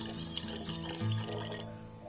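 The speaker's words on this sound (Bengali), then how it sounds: "তো আমি একটু জল আন্দাজে মিলিয়ে নিচ্ছি।" Water is poured by hand into a homemade hand sanitizer mixture, a soft, steady liquid trickle heard close up over a low background hum.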